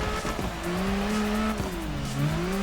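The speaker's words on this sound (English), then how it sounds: "the car is still sliding sideways" A car drifts sideways in the CarX Drift Racing video game, its engine droning loudly while tire squeal rises and falls in wavering tones across the whole stretch.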